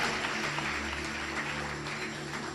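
Congregation in a church clapping during a service, a continuous, somewhat distant wash of applause with sustained keyboard-like tones droning beneath.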